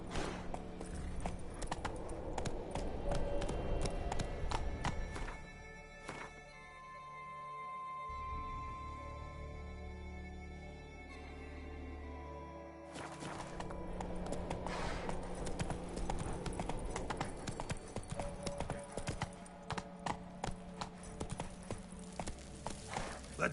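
Roach the horse's hooves clip-clop steadily through The Witcher 3 game world for most of the stretch, close and fairly loud over a layered in-game music and ambience bed, easing briefly in the middle before the rhythmic hoofbeats return.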